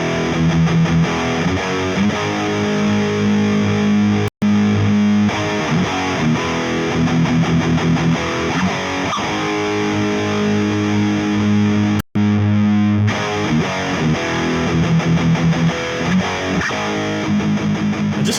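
Electric guitar played through a distortion pedal into an Orange Supercrush amp sim pedal, sustained crunchy chords and riffs ringing loudly with two abrupt cuts to silence.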